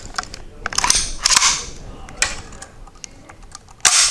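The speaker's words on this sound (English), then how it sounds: "Pull the trigger and fire." Micro UZI firearm being dry-fired: a few sharp, close mechanical snaps and clicks as the trigger is pulled and the action releases, separated by short gaps, with the loudest snap at the very end.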